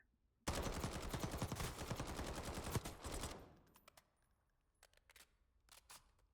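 A CR-56 AMAX assault rifle fired in a video game: one sustained, loud, rapid automatic burst of about three seconds, cut off sharply, followed by a few faint mechanical clicks in near silence.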